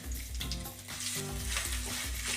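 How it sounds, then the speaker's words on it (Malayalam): Steady oil sizzle with crackling as grated coconut fries in a pan, close and continuous, with faint clinks of stirring and no voices. "ഈ തേങ്ങ ഒന്ന് നന്നായി വറുത്തെടുക്കണം"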